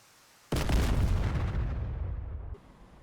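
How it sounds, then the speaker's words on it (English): A missile strikes a search radar in the DCS Su-25T flight simulator, heard as one sudden, heavy explosive boom that rumbles loudly and decays over two seconds into a quieter background hum. "That's a good impact from my missile."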